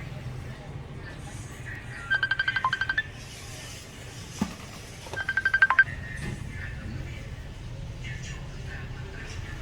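Keypad tones on a Samsung Galaxy Note 9 dialing a test mode code come in two quick bursts of rapid beeps a few seconds apart, with someone talking throughout.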